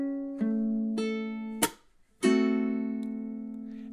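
Ukulele etude phrase played in time: a few plucked notes ringing and decaying, then a sharp strummed chord, a short pause, and a sustained final chord fading out, solo and clear.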